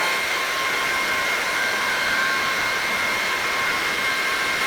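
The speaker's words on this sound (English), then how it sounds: "I think I just vacuumed this yesterday with my other vacuum" A Levoit cordless vacuum cleaner whirs steadily at close range, a high motor whine holding constant with no pauses and no talking.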